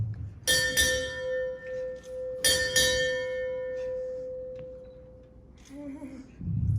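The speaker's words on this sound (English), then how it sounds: "Sound 4 bells." A ship's bell at a military change of authority and retirement ceremony rings four times in two quick pairs, each strike bright and ringing out, then a long fading decay with a faint voice at the end.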